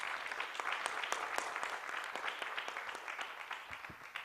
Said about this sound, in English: could we have a really fantastic, and I'm talking fantastic, very, very loud round of applause for 6 excellent presentations